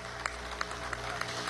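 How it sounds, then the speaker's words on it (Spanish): An audience at a televised government event in Venezuela gives brief applause, a soft, distant patter of scattered claps with a few sharper individual hits. "Un aplauso para Argentina."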